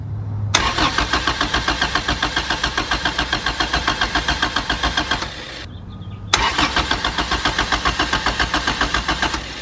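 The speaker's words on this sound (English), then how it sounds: "whenever we actually crank the starter, we should see this light pulsating." A car's starter cranks the engine in two long bursts separated by a short pause, a loud, rapid rhythmic churning with no catch or start, recorded up close.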